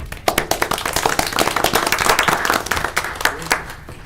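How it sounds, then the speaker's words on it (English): An audience at a local commission meeting gives a lively round of applause, close and full, with individual claps standing out throughout. "Let's give her a round of applause."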